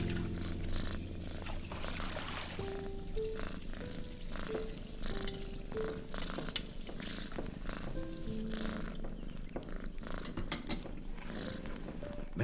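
Hodge the cat purring steadily in The Beekeeper's Picnic video game, a soft continuous rumble running under game music with scattered tones and chimes on top.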